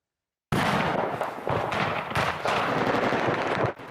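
Continuous loud rumbling and crackling of shelling and gunfire at the war-damaged village of Pisky, Ukraine, with repeated sharp bangs and bursts layered over a dense roar.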